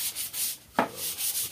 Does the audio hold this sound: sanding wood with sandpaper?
yes